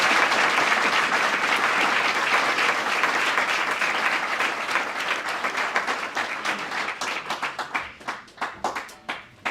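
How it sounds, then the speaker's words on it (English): Audience applause welcoming a presenting team at a cup final presentation evening: a full, dense burst of clapping that gradually thins into fewer, louder individual claps before fading out. "Let's give them a round of applause."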